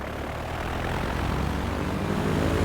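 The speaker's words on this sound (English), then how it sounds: "we're going to have our first takeoff on the series" An airplane takes off in the video game Transport Fever 2, its steady propeller-engine roar growing slightly louder over a few seconds.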